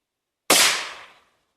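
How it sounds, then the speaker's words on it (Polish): A medium Yorch firecracker goes off in a single sharp, loud blast at close range, followed by a short decaying rumble, with silence before and after. "Wybuch."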